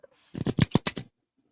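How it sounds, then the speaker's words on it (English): Rune stones are shuffled in a quick burst of clattering and rattling, with about six close, dense rattles lasting under a second before silence. "she needs some runes while I shuffle"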